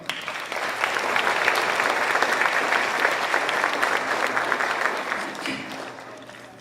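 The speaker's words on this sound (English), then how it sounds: "Let's give all of our top 12 students a big hand of applause." Audience at a middle school banquet claps for the top twelve students, applause swelling quickly to a full, even patter, holding steady, then tapering off near the end.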